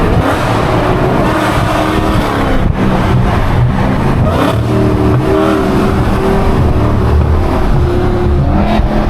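A Dodge Hellcat or BMW M3 Competition engine roars loudly and continuously inside a tunnel in Atlanta traffic, with shifting engine tones and revving close by, no speech over it.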